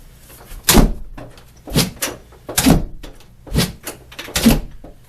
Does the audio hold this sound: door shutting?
yes